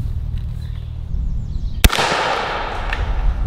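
A single sharp shotgun blast rings out outdoors during a pattern test, one loud crack followed by a decaying echo, after a quiet stretch of low background noise.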